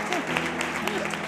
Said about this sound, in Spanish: ¡Un aplauso para Conchi!